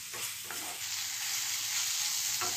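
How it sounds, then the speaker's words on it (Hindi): Soybean chunk curry with tomato sizzling and frying in a pan, with a few scraping stirs of a spoon over a steady hiss. "सब्जी को थोड़ी देर ऐसे ही भून लेंगे"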